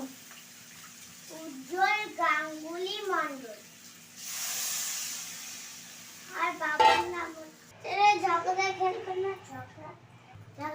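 Water poured into a hot pan of egg curry gives a steady sizzling hiss lasting about two seconds, set between stretches of nearby speech.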